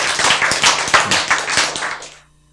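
A short burst of clapping from a church congregation during a sermon, brisk and fairly close, tapering off into quiet after about two seconds.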